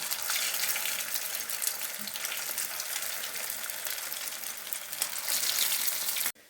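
Round fish cutlets sizzle loudly and evenly in a hot pan, a constant crackling hiss that stops abruptly at the end.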